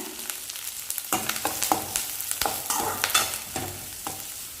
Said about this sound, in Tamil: கட் பண்ணி வச்சுருக்கிறேன் வெங்காயத்தை சேர்த்து வதக்கிடுங்க.